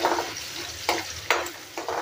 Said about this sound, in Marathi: इथे आपलं तेल गरम झालंय, कांदा टाकून घेते